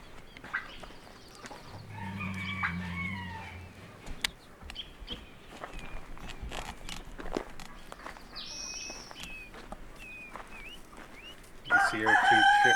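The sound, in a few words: mother hen clucking with her chicks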